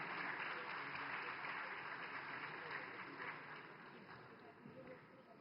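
Dense, steady audience applause filling the hall at a film festival opening ceremony, continuous and loud throughout, slowly easing off toward the end with no pause.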